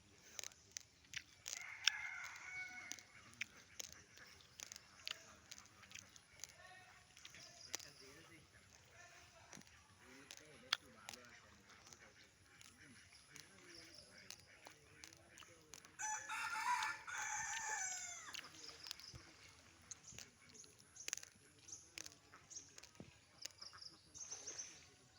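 A wild junglefowl rooster crows to call its mate, a faint burst early and a louder crow midway, set among scattered clicks and faint background noise.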